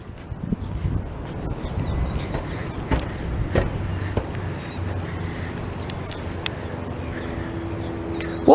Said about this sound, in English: just waiting for a vehicle to pass